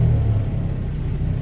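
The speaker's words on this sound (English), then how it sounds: "Now I'm going to push the accelerator just a moment." A truck engine, a Swift dry van rig, revs up as the accelerator is pressed briefly, giving a loud, close, steady low rumble and whir with no talk.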